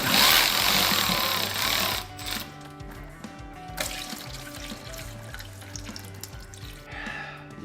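Transmission fluid draining from the dropped pan of a Dodge Diplomat, a loud rushing splash at first that thins into a steady trickle and patter onto the floor.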